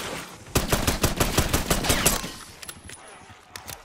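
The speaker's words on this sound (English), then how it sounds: "starting pistol is still kind of shredding, though" Rapid burst of starting pistol gunfire in the Black Ops 6 Zombies video game, about a dozen loud close shots in quick succession, then a few scattered shots and game effects trailing off.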